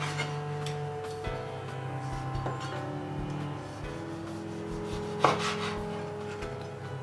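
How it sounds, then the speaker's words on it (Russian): A knife thinly slices a tomato on a board in a few quiet, repeated strokes, with a sharper tap near the end and a low steady hum behind. "и очень тонкими ломтиками нарезаем помидор."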